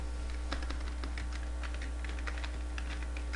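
Computer keyboard keys are tapped in a quick, irregular run of light clicks while a layer name is typed, close-up and fairly quiet over a low steady hum.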